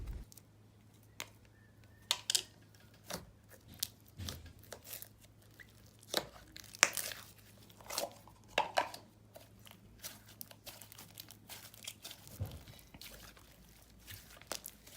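Scented white cupcake icing butter/clay slime squished by hand, giving scattered sharp bubble pops and soft squelches, quiet and close, with irregular gaps between pops.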